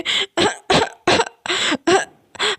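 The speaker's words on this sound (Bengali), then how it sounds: "আমরা তো কাশছি খুব" A run of seven sharp, close coughs in quick succession, loud and dry with short pauses between them.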